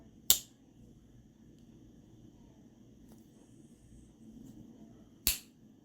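A HOLUB electrician's pocket knife blade snaps shut twice, each a sharp, close, loud click separated by a few seconds of quiet room hiss.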